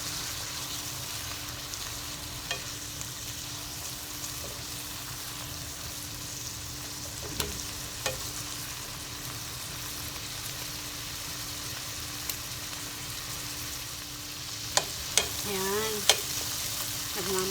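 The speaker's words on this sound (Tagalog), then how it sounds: "kailangan maluto maigi ang kamatis" Tomatoes fry in a pan for ampalaya with shrimp, giving a steady, even sizzle with faint clicks of a utensil, and a voice speaks briefly near the end.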